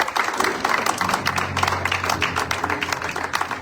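A church congregation applauds and cheers, with dense, continuous clapping and crowd noise throughout at moderate loudness.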